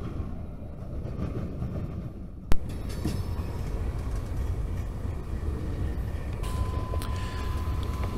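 A train rolls past in Cordele, a continuous near rumble with a sharp clank early on and a faint tonal squeal later, no voices.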